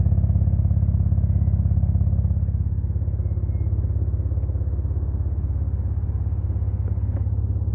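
A Jeep Wrangler Rubicon's deep, steady engine idle with a rumbling exhaust burble, close and continuous, low-pitched throb with no talking.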